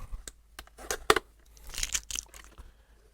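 Protective plastic film is peeled off a Deebot 500 robot vacuum in a few sharp crinkling, tearing bursts, with one louder rip in the middle and quiet handling between.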